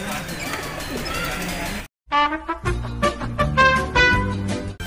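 Racing pigeons coo repeatedly in soft, throaty bursts after a brief noisy stretch, the calls close and overlapping, as they are loaded for a training release in Carmona, Laguna.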